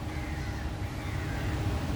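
Crows caw amid a constant outdoor hum, their calls blending into steady background noise.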